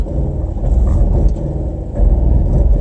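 A 2019 Toyota Tacoma TRD Pro reverses slowly off-road under Crawl Control, a loud, close, steady low engine rumble that swells slightly midway, with no voices.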